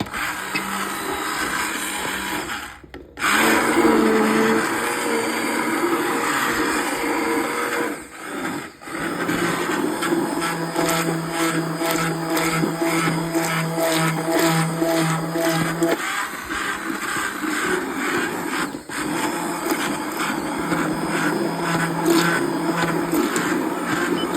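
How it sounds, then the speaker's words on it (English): A handheld stick blender motor whirs steadily with a gritty, buzzing drone while mixing tallow shave soap, cutting out briefly a couple of times before starting up again. "So we'll go with our rocket blender."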